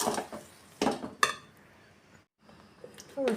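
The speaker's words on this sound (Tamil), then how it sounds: "ரெண்டு கப் சர்க்கரை சேர்த்தாச்சு நல்லா கலந்து விட்டுக்கணும்" Spoon scraping and clinking against a pan as sugar is stirred into roasted semolina for rava kesari, in a few sharp bursts with quieter scraping between and a brief silent gap.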